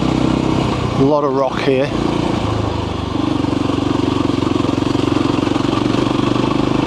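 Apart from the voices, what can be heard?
Voge Rally 300 motorcycle riding off-road over sand and rocks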